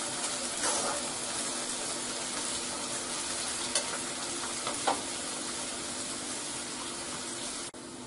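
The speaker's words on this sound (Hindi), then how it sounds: "प्याज को हमें अच्छे से गोल्डन ब्राउन करना है।" Onions fry toward golden brown in a pan for turai chana dal. A constant, even sizzle holds steady throughout, with a few faint clicks and no voices.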